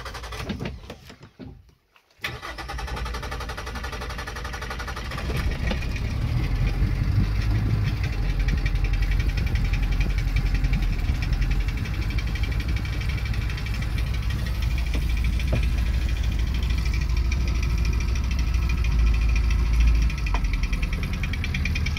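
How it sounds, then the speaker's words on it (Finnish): An old Honda outboard on a Bella 512 boat starts after a brief quiet moment, then runs with a steady, rough mechanical drone that grows louder and stays even and close to the end. "Honda on vanha, mutta hyvin lähtee käyntiin ikäisekseen vielä"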